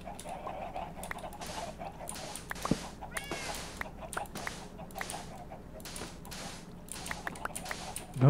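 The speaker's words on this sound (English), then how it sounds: "I think the cat likes it down here" A cat meows repeatedly in a short series of close, fairly faint calls over a low background hum.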